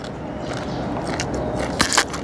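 Raw eggplant is bitten and chewed with short crunchy snaps, loudest near the end, heard close up with some soft background noise.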